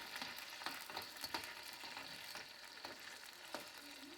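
Thin slices of marinated bottom round steak, cut a quarter inch thick, sizzle and fry steadily in a hot pan, with occasional louder crackles and stirring sounds over a constant hiss and no talking.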